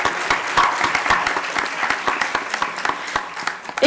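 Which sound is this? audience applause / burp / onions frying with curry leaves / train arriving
audience applause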